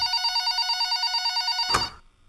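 A telephone bell rings steadily in a fast trilling pattern, loud and close, then cuts off abruptly near the end with a brief clatter as the receiver is lifted.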